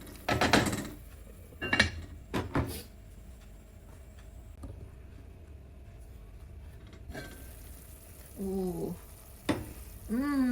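Sweet and sour beef simmering and being stirred in a pan, with a few loud spoon scrapes and clanks over a soft steady bubbling, plus a brief squeaky scraping near the end.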